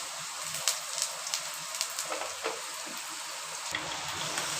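Chopped onion and garlic sizzling and crackling in sesame oil in a pan, a steady frying hiss broken by sharp pops and spits, close and moderately loud with no talking.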